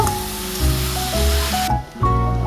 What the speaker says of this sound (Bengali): দেখেন আমি পেঁয়াজটা নাড়াচাড়া করছি ভালোভাবে লাল করার জন্য